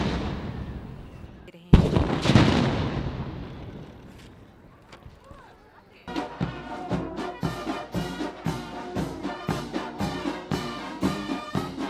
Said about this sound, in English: as tradition dictates, there was also the 21-gun salute